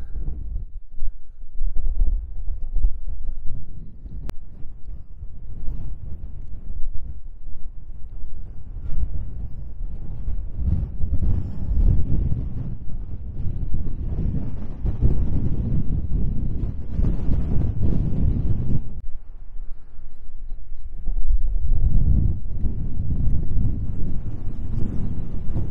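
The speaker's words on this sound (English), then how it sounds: "Yeah, very windy, but very nice conditions." Heavy, gusting hilltop wind roars across the microphone in loud, sustained blasts, briefly easing before surging back strong.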